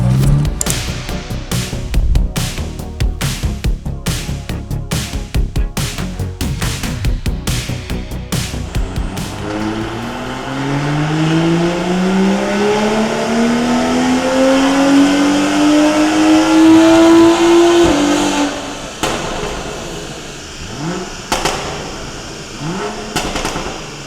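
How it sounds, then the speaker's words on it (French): A tuned BMW 335i E92 with a turbo laps the Bresson circuit, its engine loud and close, climbing through long revving pulls with gear changes, a rising drone that builds to a peak before lifting off. "vous allez voir l'auto là, sur le circuit à brûlon"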